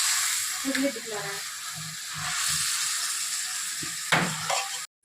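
Chicken pieces fry with turmeric and salt for biryani, giving a loud, steady broadband sizzle and hiss up close, with a stir or two and a voice faintly in the background.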